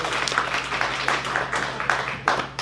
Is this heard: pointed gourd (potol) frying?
no